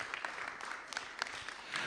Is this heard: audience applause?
yes